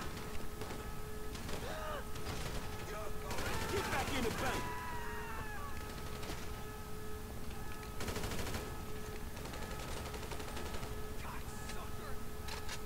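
Gunfire from GTA V on PC sounds in short rapid bursts, with a dense cluster in the middle and another later, under steady game background noise and some speech.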